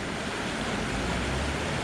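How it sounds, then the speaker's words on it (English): Running water flowing beneath a tree beside a fishing spot, a steady broadband rush, continuous and fairly loud with no other sounds. "That's next to this running water underneath a tree."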